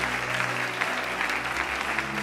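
A church congregation applauding their pastor during a Sunday service, steady dense clapping from many hands filling the room without a break, with a low hum underneath.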